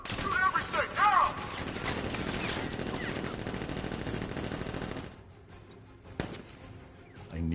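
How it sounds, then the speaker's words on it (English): Dense, sustained automatic gunfire from militia troops in the video game Batman: Arkham Knight, loud continuous rattling bursts that stop abruptly, followed by a quieter pause and a single sharp report. "Open fire! Shoot everything! Now!"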